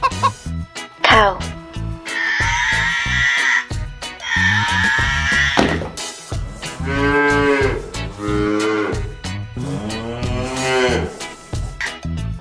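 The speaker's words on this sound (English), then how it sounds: "Cow." A cow moos in several long, drawn-out lows, loud and near, separated by brief gaps and layered over light rhythmic music.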